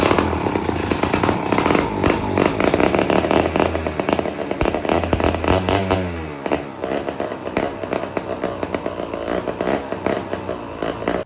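A chainsaw running with its bar removed revs loudly in rough bursts, the engine bogging down and stuttering partway through before picking back up, with no voices.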